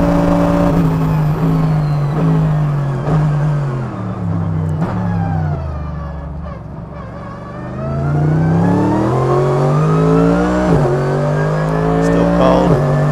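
A 2020 Mercedes-AMG GT3 race car running on a wet, drying circuit gives a loud, close in-car engine note that rises through the gears, drops off while slowing, then climbs again, with a voice heard at times.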